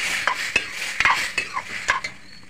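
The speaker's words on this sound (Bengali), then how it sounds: "ভালো করে নাড়ি চাড়িয়ে" A spoon stirs a mixed-vegetable shukto curry in a pan, scraping and clinking against the metal in irregular strokes, close and fairly quiet, with a faint sizzle underneath.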